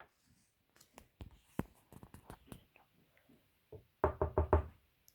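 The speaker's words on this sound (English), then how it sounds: "went straight to the castle door and knocked" Knocking on a castle door: a scattered series of sharp raps, then a tight cluster of four loud, close knocks at the end.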